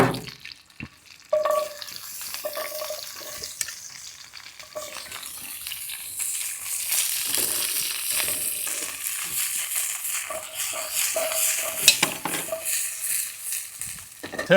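Peppers and turnips stir-fry in very hot oil, a steady loud sizzle and crackle with occasional scraping and stirring sounds, and no one speaking.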